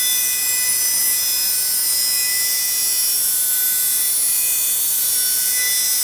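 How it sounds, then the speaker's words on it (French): A jigsaw cuts steadily through a wooden template, giving a continuous, harsh, high-pitched buzzing rasp that carries on evenly without pause at close range. "il faut pas s'arrêter avec la scie sauteuse"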